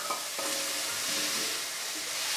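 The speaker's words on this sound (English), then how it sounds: "We're just going to add that to the pan and let that fry off for about 2 minutes." Chopped white onions and four cloves of garlic frying in a pan for chilli con carne, a steady loud sizzle throughout with a brief stir near the start and no talking.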